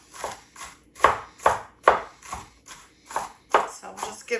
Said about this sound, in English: we do that by chopping them small